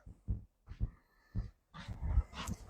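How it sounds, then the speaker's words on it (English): Dogs behind a backyard fence let out a few short, muffled barks or yips, spaced apart at moderate distance, followed by a louder jumble of noise. "You don't need to be barking at her."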